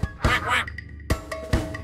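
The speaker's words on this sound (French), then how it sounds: "Le petit canard, canard," Duck quacks in a French children's nursery song, several sharp calls in a short burst, the first pair close together and two more spaced apart, loud and near with no voice over them.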